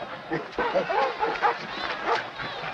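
A dog in a film version of The Call of the Wild, giving short yips and whimpering barks up close among a few voices.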